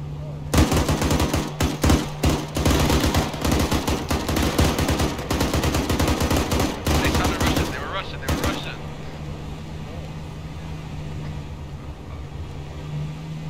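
Rapid bursts of automatic gunfire crackle in a shooting game, dense volleys for about eight seconds before dropping to a low steady hum, with people talking over the shots.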